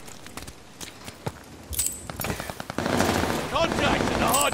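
Rapid automatic gunfire crackles around a contested hardpoint in a first-person shooter match, bursts growing denser and louder toward the end amid overlapping battle noise.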